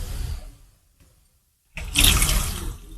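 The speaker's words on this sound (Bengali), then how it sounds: "এবারে দেব আমি তেঁতুলের জল।" Tamarind water is poured into a pot of Bengali fish roe tok curry: after a low rumble fades to near silence, a close, loud gush of liquid splashes in and runs for about a second.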